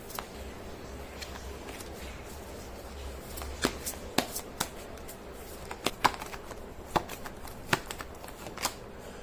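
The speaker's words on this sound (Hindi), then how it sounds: "मैं कर लेती हूँ कार्ड की शफलिंग।" Tarot cards being shuffled by hand close up, soft riffling and scattered crisp slaps of cards as the deck is cut and gathered, no talking.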